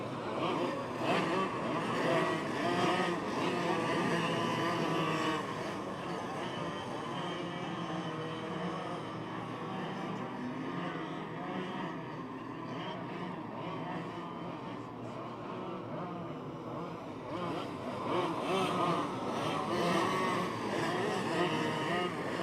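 Oval racing karts circle the track at Perris Auto Speedway as the pack runs under caution, a continuous buzzing, droning blend of small engines heard from a distance, slightly louder at the start and end.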